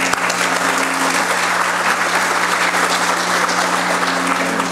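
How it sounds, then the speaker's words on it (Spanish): Sustained, dense applause from an audience at a Costa Rican accountants' association talk, steady and loud throughout as a speaker is welcomed to the microphone. "Con un fuerte aplauso recibimos a don Luis Fernando"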